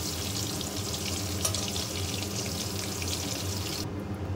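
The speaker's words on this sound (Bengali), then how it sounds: "এবার আমি এর মধ্যে এক এক করে পনিরগুলো দেব আর সুন্দর করে লাল লাল করে ভেজে নেব" Paneer pieces fry in hot oil until reddish-brown for paneer butter masala, a continuous close sizzle that drops away in its upper hiss just before the end.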